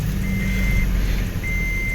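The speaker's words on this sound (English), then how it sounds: "I know the car is beeping because I have the keys inside." Steady electronic warning chime from a 2013 Toyota Tacoma with keys left inside: a high beep tone sounding in two long stretches with a short pause, over a low steady engine or cabin hum, no voices.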